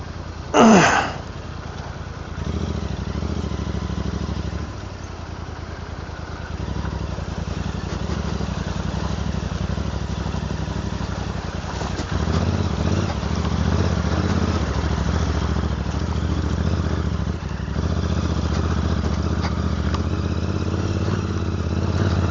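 A KTM motorcycle on a mountain road in Spiti, its engine droning steadily and fairly loud throughout, with a brief sharper burst near the start and slight swells in the middle.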